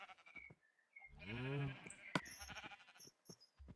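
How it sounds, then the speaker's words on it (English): Sheep bleat in a video game, a few close wavering calls with one long drawn-out bleat in the middle, separated by short quiet gaps. "getting a whole bunch of sheep and everything, just shearing their wool and everything"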